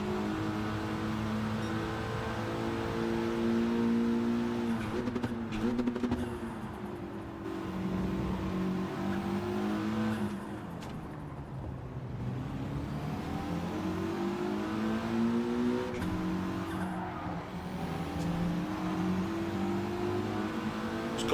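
Race cars in Gran Turismo 7 during a Group 4 daily race at Lago Maggiore Centre, engines droning and rising and falling steadily throughout with no talk.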